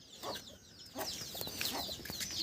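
A country hen clucks softly near her newly hatched chicks at the nest, short close clucks and thin peeping calls in quick succession.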